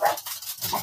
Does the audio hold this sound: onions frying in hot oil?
no